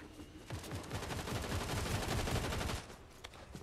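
Rapid automatic gunfire in a multiplayer shooter game tournament match, a dense sustained burst of shots lasting about two and a half seconds, loud and close, with no talking over it.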